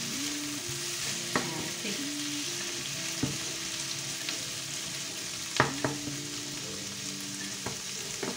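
Salmon dish with a pinch of salt being stirred in a sizzling frying pan: steady close frying hiss with scattered utensil clicks and scrapes, and a short spoken word at one point.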